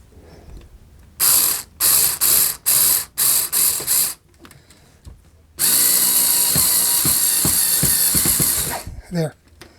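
Power drill driving the last screw home during a tortoise installation: a burst of short, loud trigger pulses, then one long sustained high whirring drive with a ratcheting clutch chatter near the end, close by and without talk.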